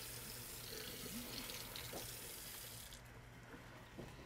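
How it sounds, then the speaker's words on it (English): A spoon is rinsed under a running kitchen tap while cooking Nigerian egusi soup: a steady, moderately loud broadband rush of water pours for about three seconds, then thins and softens, with a faint clink near the end. "I'm going to rinse this and use the same spoon"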